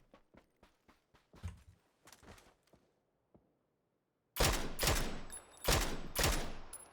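SKS rifle fire in a first-person shooter game: a run of sharp, evenly spaced single shots that thin out, then a pause before several much louder, closer bursts of gunfire with no one talking.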